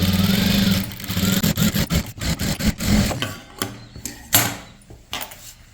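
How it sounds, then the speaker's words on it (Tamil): A sewing machine stitching the neckline of a maxi dress, a loud steady motor run that breaks into a stuttering series of short bursts and pauses before stopping. "இதுக்கு பக்கத்தில் கால் இன்ச்சில் ஒரு தையல் போட்டுக்கலாம்"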